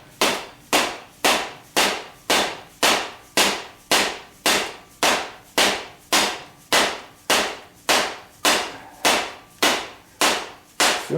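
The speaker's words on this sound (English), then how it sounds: "And I'm going to not so gently tap it with a dead blow hammer." A dead blow hammer strikes a steering column in a 1976 Corvette restomod about twenty times at a steady, even pace, each blow a sharp loud thud standing alone with no voices.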